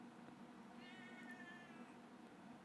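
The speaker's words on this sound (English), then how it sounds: "Did you hear meow? Hear that meow?" A single drawn-out cat meow, faint and alone over quiet room noise.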